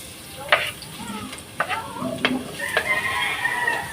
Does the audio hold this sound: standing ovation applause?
no